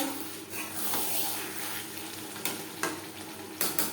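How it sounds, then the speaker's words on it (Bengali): Bhetki fish and eggplant curry is stirred in a pan over a gas flame, a steady close sizzle broken by a few sharper scraping strokes, with no voices. "এক মিনিট নাড়াচাড়া করে নেওয়ার পর"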